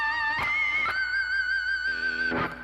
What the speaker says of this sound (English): we're talking about that super high note that jumps out when you hit the string just right